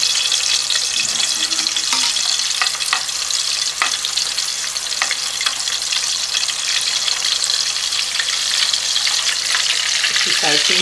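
Peshawari chapli kabab patties of minced meat, onion and tomato fry in a pan, giving a loud, continuous close sizzle with scattered sharp pops and crackles throughout.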